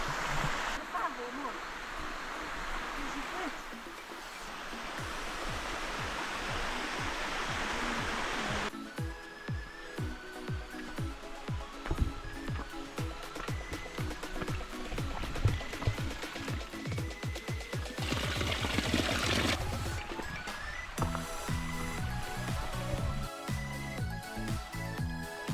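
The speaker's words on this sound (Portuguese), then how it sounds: "aqui a gente tá passando do lado de uma cachoeira, dá pra ouvir bem o barulho da água" A waterfall roars close by in a steady, broad wash of rushing water while people talk over it and footsteps and handling noises come and go.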